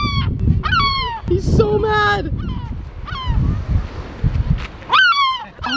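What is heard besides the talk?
seagull calling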